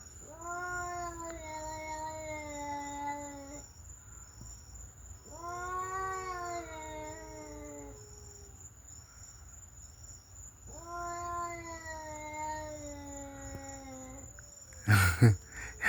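Three long, eerie cat yowls rise and fall at fairly even intervals over a constant chorus of crickets, ending with a brief loud clatter nearby.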